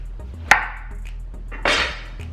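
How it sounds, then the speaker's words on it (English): Two separate knife strokes through firm squash, cutting it into rounds, each a sharp chop onto a cutting board followed by a short scraping slice, close and distinct with no talking. "as far as the squash goes, I'm going to cut it in circles"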